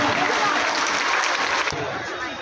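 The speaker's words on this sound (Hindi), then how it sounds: "जरा जोरदार तालियां" A standing audience at a prize distribution ceremony gives a guest a loud welcome, with dense, continuous applause filling the hall. Voices are mixed in, and the sound eases slightly toward the end.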